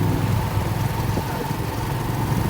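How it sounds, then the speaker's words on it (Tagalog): A motor tricycle's engine drones steadily at a close, even idle-like hum, with a low mechanical rumble filling the whole short stretch and no talking. "sumakay na kami ng tricycle"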